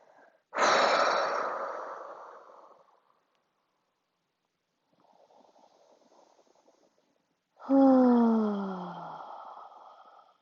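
Two long, slow exhalations during gentle yoga, each a soft breathy rush that fades out, separated by a quiet pause with a fainter breath, close and unaccompanied by talk.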